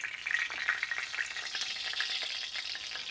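Pork belly skin sizzling and crackling as it crisps on a grill for smoked pork belly, a steady bright hiss with scattered sharp pops, close and continuous, no voices.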